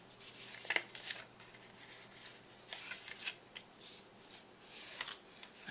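Paper pages of a handmade mini album are folded and creased at a craft table, making soft, close rustles and crisp crinkles in quiet, irregular bursts, with no talking.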